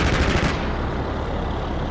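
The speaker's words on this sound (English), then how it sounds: "It's a pretty accurate machine gun" An M6 Linebacker's vehicle-mounted machine gun fires in the DCS World combat simulator, a loud sustained burst of rapid shots that cuts off after half a second and leaves a steady roaring engine rumble.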